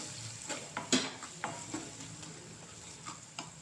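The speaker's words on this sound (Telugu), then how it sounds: "ఇవి ఉల్లిగడ్డలు అన్నీ సమానంగా వేగుతాయి" Bitter gourd and onions fry in a pan with a steady sizzle, punctuated by several clinking stirs of a utensil against the pan at close range.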